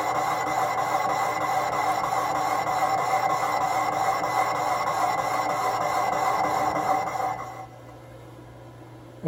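Finishing cut from a lathe boring bar working inside a transmission bore in a home machine shop, a steady grinding, rasping hiss with faint rhythmic texture that runs unbroken for most of the time, then drops away as the cut ends.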